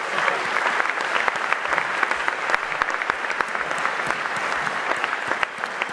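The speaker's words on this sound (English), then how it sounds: "everyone in the room, a collective round of applause" A room full of people at an awards event breaks into sustained applause, dense steady clapping from a large crowd throughout, loud and close with no talk over it.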